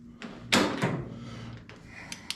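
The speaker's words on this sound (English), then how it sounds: "it catches once and then it catches twice, and the door is still really loose" Latch on a 1954 GMC truck door with a worn striker, heard up close as two distinct metallic clunks a moment apart, followed by fainter rattles and taps.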